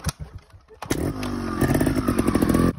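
A trial motorcycle engine blips and revs up sharply after a quiet start as the clutch is released for a jump, holding a loud, rising roar with some clatter, close by.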